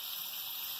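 Water poured from a cup into a pan of sizzling ground spices (coriander, turmeric, red chilli powder) for paya curry, giving a steady close hiss and gush without pause.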